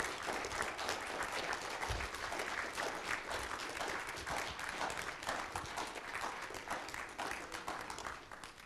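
An audience applauds at the close of a conference: sustained, dense clapping from a crowd, steady and fairly faint, fading slightly at the end.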